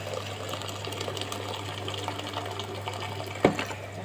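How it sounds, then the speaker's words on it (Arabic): Water is poured into a pot of two cups of rice for Egyptian fatta, a steady close splashing fill over a constant hum, ending in a short knock near the end, with no speech. "هنزل بالميه"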